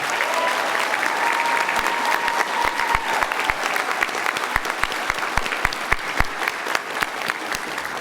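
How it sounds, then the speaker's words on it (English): A convocation crowd claps for university graduates in New Brunswick, a steady wash of applause with a few sharp nearby claps standing out, while a faint whistle tone drifts through early on. "let's give another round of applause to everyone for their graduation"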